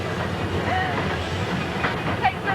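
A steam locomotive runs with a rhythmic rail clatter and a continuous hiss of steam blowing off, steady and close throughout the short stretch.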